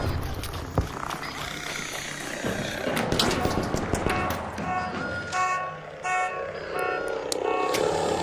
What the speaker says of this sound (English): It's a lure grenade.